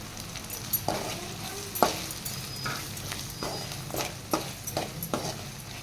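Spoon stirring chili powder and kulambu masala powder into sautéed onions in a pan for brinjal gravy, giving a soft sizzle with repeated scraping strokes, close and without talk.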